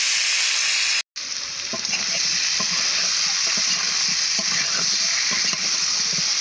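Pieces of rupchand (pomfret) fish sizzle in a hot pan, a steady bright crackle of frying oil with occasional stirring scrapes, after a brief cut near the start.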